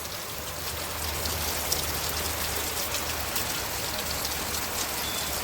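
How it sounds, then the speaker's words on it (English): Steady rain falls in Alabama during Hurricane Sally, a continuous even hiss of drops pattering on surfaces, with no voices, close and moderately loud throughout. "So just we'll count the raindrops, I guess, today."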